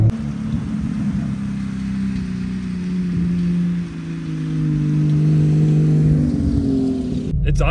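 A car engine running on vodka instead of gasoline, idling with a loud, steady close-up drone that swells slightly in the middle, with no speech over it.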